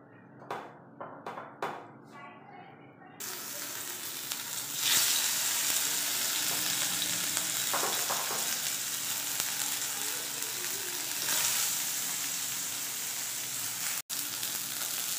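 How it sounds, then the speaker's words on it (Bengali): Soya chunks frying in a pan: a few light clicks and taps, then a loud, dense sizzle and crackle that holds steady to the end, with occasional stirring scrapes. "এবার হচ্ছে সেম প্রসেস মেনে আমরা সোয়া চামচটাও ভেজে নেব"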